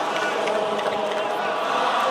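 Dense, continuous roar of a volleyball arena crowd during a France versus Brazil Men's Volleyball Nations League 2018 rally, loud and sustained without letup.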